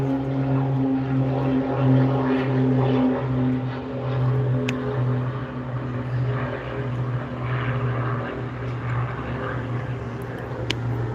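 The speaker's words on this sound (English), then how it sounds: "something taking off. That is a twin prop." A twin-propeller Beech 58 Baron takes off with a loud, steady droning engine hum and a throbbing propeller tone that holds throughout.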